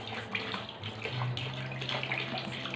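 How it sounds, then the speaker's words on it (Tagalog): About a liter of water is poured into a clean bucket for homemade dishwashing liquid, giving a steady, moderately quiet splashing rush with no pauses. "maglagay muna tayo ng 1 liter na tubig sa ating malinis na timba"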